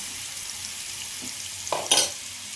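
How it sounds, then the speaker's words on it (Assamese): Onion, ginger and garlic paste frying in hot oil for a fish curry gives a soft, steady sizzling hiss, with a couple of brief louder scraping bursts near the end. "আটাইখিনি মই ইয়াতে উলিয়াই ভাজি লওঁ"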